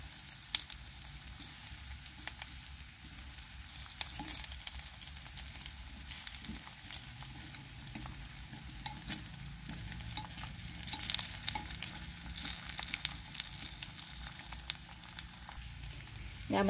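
Green banana slices pan-frying in oil, browning on both sides, give a steady, continuous sizzle with occasional stirring scrapes throughout, fairly close with no talk.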